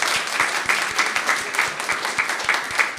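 An audience at an Armenian studies talk applauding steadily for about three seconds, dense clapping with a regular rhythm, close and moderately loud.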